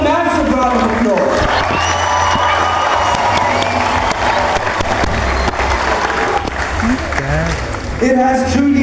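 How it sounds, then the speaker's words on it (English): A crowd at a uShaka Sea World dolphin show applauds and cheers for the performing dolphins, with loud sustained clapping, whoops and children shouting, and whistle-like calls rising over the crowd. "Can we please give them a massive round of applause?"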